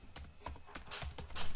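Password keystrokes tapped on a computer keyboard at an Ubuntu login screen: a quick run of about eight close, crisp key clicks with a slightly uneven rhythm.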